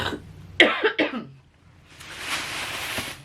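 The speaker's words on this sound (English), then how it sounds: "I'm gonna cough again." Two quick coughs close to the microphone, followed by a soft hiss of background noise.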